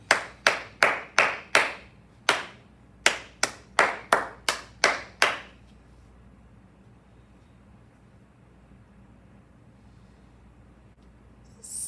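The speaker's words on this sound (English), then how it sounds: "Clap it!" Crisp hand claps ring out close and alone in a rhythmic pattern, about a dozen claps in uneven groups over five seconds, followed by near silence.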